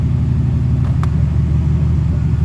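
A Mercedes SL600 engine idles with its newly installed transmission engaged, a loud, steady low rumble with a throbbing beat and a brief mechanical clunk near the start, no talking.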